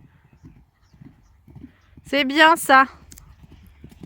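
Horses galloping on the ground, a soft rhythmic clip-clop of hooves at moderate distance, heard beside a loud spoken voice in the middle of the stretch.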